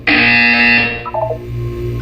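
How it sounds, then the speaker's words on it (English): A loud electronic buzzer from the video game Portal sounds once, a harsh sustained tone lasting under a second, followed by a quieter tail of in-game sounds. "You will hear a buzzer."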